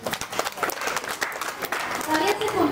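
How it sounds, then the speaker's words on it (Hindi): Guests at an Indian engagement ring ceremony clap together in a lively burst of applause that continues throughout the short moment, with voices mixed in among the crowd. "सबसे पहले तो मामा मामी जी के लिए जोरदार ताली बजा दीजिए।"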